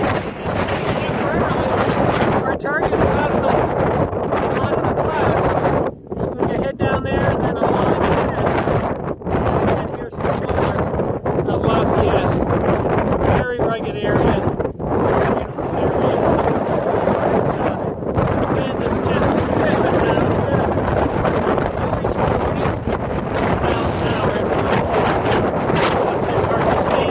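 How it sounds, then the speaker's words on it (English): Strong wind roars across a mountain on the Appalachian Trail, a loud continuous buffeting rush blasting the microphone with brief dips, while someone talks under it. "You can hear the wind up here."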